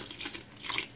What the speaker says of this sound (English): We're just gonna put a little more water in there.